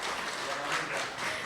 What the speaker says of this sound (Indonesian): kita tepuk tangan semuanya untuk kehadirannya